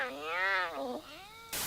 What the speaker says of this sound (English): Clouded leopards can't do either, instead they do this.